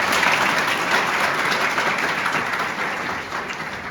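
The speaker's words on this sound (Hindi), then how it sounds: "एक बार अपने लिए जोरदार तालियां बजा दें।" Workshop participants applaud themselves with a full burst of clapping that starts strong and gradually tapers off over a few seconds.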